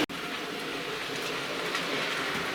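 A model A1 steam locomotive, Sir Walter Scott, passing on a model railway track, giving a steady close rumbling rush with faint rhythmic clicking throughout.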